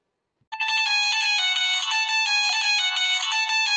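A mobile phone ringtone starts abruptly after a moment of silence and keeps ringing loudly and steadily in a repeating electronic melody, with no talk over it.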